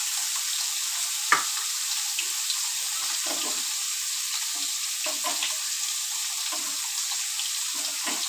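Fish frying in a pan at home, a steady soft crackle with water-like hiss running throughout and a few sharper clinks, close and alone with no talk.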